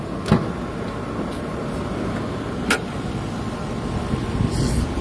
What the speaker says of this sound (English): See how smooth the engine is.